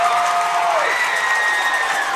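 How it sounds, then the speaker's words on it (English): West Jefferson fans at a state championship softball game cheer and applaud after a triple. The broad crowd roar holds steady and loud for the whole moment. "This West Jefferson faithful have something to cheer for."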